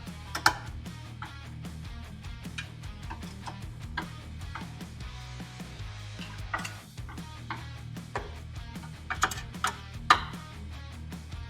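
Ratchet clicks and light metallic tool work on the headlight mounting hardware of a 2015–2023 Harley-Davidson Road Glide during a Shark Demon headlight install, with steady, close ticking broken by a few sharper clacks.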